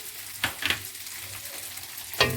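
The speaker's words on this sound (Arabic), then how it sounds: "هنبدأ نقلب كده كل التوابل بتاعتنا كده مع بعض." Salt, pepper, garlic powder, onion powder and stock being stirred into a frying minced meat mixture, a steady close sizzle punctuated by a few sharp scraping stirs, no talking.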